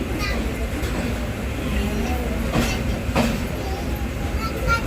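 The Jan Shatabdi Express, train 12052 on the Konkan Railway, rolls into Panvel station with a steady rumble and clatter of wheels, loud and close, with a few sharp metallic clacks.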